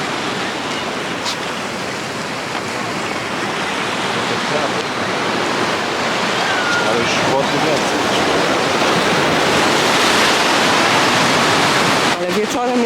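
Broad, steady wash of sea surf rolling in continuously at San Agustín, Gran Canaria, fairly loud and close, with brief voices faintly audible near the end.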